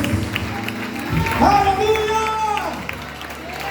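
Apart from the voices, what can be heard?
congregation applauding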